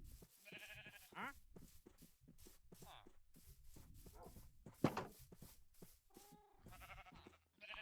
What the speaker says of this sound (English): Come on, sheep.